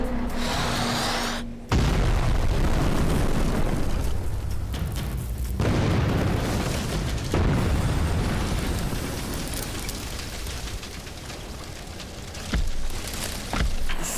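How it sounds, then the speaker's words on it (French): Loud explosion sound effect from a Playmobil City Action construction scene: a sudden deep boom that drops into a long rumbling roar, with a second burst partway through, alone without talk. "Attention, maintenant ça va exploser!"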